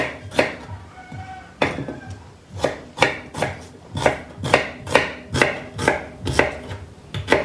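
A knife slicing through an onion on a board, with a steady series of sharp, close chopping knocks, about two per second.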